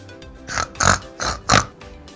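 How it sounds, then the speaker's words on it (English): A pig grunting and oinking, about four short snorting bursts in a loose rhythm, close and fairly loud, with no other sounds around them. "Pig makes oink sound."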